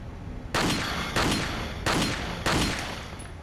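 Four loud, evenly spaced gunshots ring out in Resident Evil 4, each a sharp blast with a short decaying tail, fired about every 0.6 seconds, with no voices.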